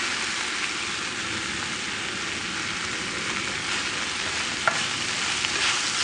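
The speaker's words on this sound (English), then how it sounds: "When I'm cooking with a high flame like this, I'm constantly stirring, never leaving it alone, so everything cooks evenly" Shrimps and broccoli stir-fried with garlic over a high flame give a loud, steady sizzle that fills the whole stretch, with occasional faint scrape-like clicks from constant stirring and no talking.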